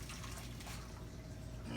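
Gravy poured into a pan for smothered chicken thighs makes a soft, continuous liquid trickle and splash, faint and close, with no talking over it.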